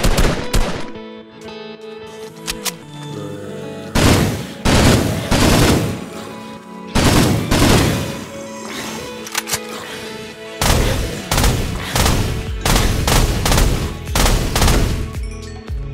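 Firearms from the Just Enough Guns mod for Minecraft fire in loud, repeated bursts of video-game gunshots, with rapid automatic volleys and single blasts crowding the whole stretch and only brief gaps between them.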